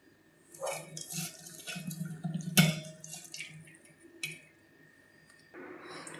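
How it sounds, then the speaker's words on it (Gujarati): Salted mango pieces are squeezed by hand over a pot, giving wet squishes and dripping water, moderately close and fairly quiet, with a brief sharp clink midway. "આમ દબાવશું એટલે પાણી બધું નીકળી જશે."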